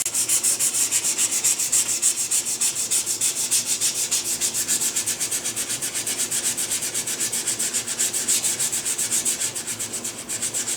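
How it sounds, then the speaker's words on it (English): Wood being hand-sanded with sandpaper wrapped over a thumb, a steady close rhythmic rasp of rapid back-and-forth strokes running for the whole stretch with no talking. "I find that using my thumb as a round piece works better than sanding blocks"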